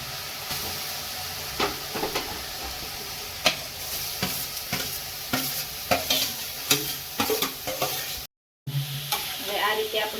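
Grated carrots roast in hot ghee for carrot halwa, a steady sizzle broken by repeated scraping stir strokes against the pan, close and continuous, with a brief dropout near the end.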